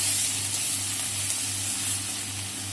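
Garlic paste and chopped garlic sizzle in hot oil in a pan with pre-fried prawns, a steady, close, even hiss of frying that continues without a break over a low hum.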